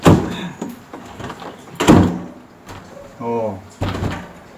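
A bathroom door with a newly installed knob is pushed shut several times, giving sharp wooden thuds and latch knocks close by, with a voice heard between them.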